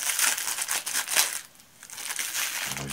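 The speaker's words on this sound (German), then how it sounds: "Dann habe ich die Tüte kaputt gemacht" Plastic bag being torn open by hand, a loud, close run of crinkling and crumpling that pauses briefly and then resumes.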